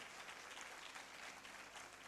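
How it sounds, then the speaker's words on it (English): Applause from an audience at a book launch, a steady, faint wash of many hands clapping together for the whole stretch, with no voices rising above it. "A resounding round of applause"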